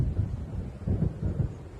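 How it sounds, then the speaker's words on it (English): Rumbling thunder of an approaching storm in the video game Alan Wake, low deep rolls swelling in two or three waves, heavy and muffled, with no voices. "It seems there's a storm coming"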